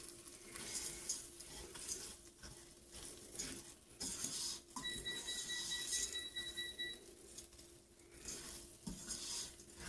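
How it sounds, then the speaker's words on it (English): Orzo toasting with butter in a pot gives a soft steady sizzle under repeated scraping and stirring clinks of a utensil against the pot, close up, with no talking. "I want to toast the orzo, give it like a nice light brown coating"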